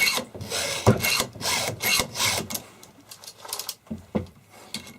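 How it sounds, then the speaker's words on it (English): A chainsaw chain being sharpened by hand with a file in a precision guide, close rhythmic rasping strokes in quick repeated bursts, no talking. "This is my favorite way to sharpen the chain."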